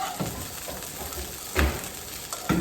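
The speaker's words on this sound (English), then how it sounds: "Now you're going to cook this until the broccoli has just started to soften." Broccoli sizzles in hot oil in a pan for a vegetable stir fry, a steady moderate frying hiss broken by a few louder stirring bursts.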